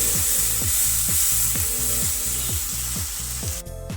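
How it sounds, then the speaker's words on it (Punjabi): Ground ginger and garlic sizzle in a hot pan with a pinch of asafoetida, a continuous close fry punctuated by regular scraping strokes of a spoon stirring against the pan. "ਇੱਥੇ ਮੈਂ ਅਦਰਕ ਤੇ ਲਸਣ ਨੂੰ ਗ੍ਰਾਈਂਡ ਕਰ ਲਿਆ ਸੀ ਇਹਨਾਂ ਨੂੰ 2 ਮਿੰਟ ਵਾਸਤੇ ਭੁੰਨ ਲਵਾਂਗੇ"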